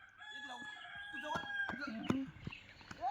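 Chickens cluck and a rooster crows faintly in the background, with scattered knocks and thumps.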